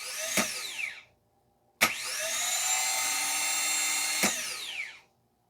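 A 2005 Toyota Corolla 1.8 starter motor runs on a bench in two bursts: a short whirring spin, then a longer steady high whine. Each burst starts with a sharp click and winds down as the motor stops.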